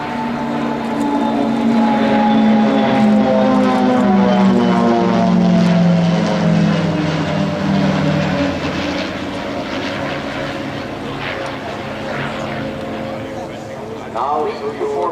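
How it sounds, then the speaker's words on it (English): Swiss Air Force Pilatus PC-7 propeller planes fly close-formation aerobatics at an airshow, a loud sustained droning roar with shifting engine pitch that sweeps down as they pass, with a voice speaking over it throughout. "flying aerobatics in close formation with propeller-driven aircraft demands the highest level of skills"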